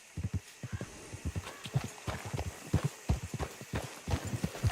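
Horse hooves clip-clop at a steady trot in Red Dead Redemption 2, a rapid, even rhythm of dull thuds that stays close and fairly loud with no talk over it.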